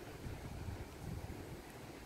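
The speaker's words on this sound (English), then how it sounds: "It's windy out here, so I don't know how well you can hear me." Steady wind buffets the microphone outdoors by an apple tree, a constant low rushing roar with no voices or other clear sounds.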